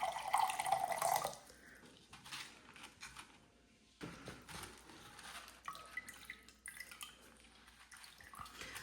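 Water is poured into a container of LECA clay pebbles: a loud splashing gush for the first second, then softer trickles, drips and bubbling as the water seeps among the pebbles.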